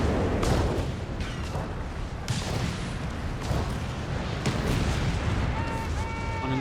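Rapid, loud bursts of gunfire and booming blasts in the video game Company of Heroes 3 overlap continuously, with sharp cracks layered over a low rumbling roar and a faint voice underneath.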